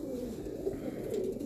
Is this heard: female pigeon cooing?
yes